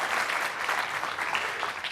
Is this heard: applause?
yes